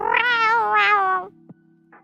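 A person's voice imitates cat meows: two drawn-out, wavering meows close to the microphone, then a short pause and a faint trailing sound.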